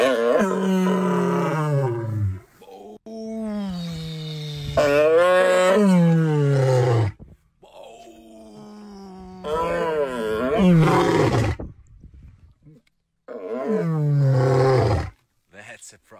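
A lion named Snow gives a series of deep, powerful roars in four long bursts separated by short pauses, loud and close, with other lions joining in; no one talks over it.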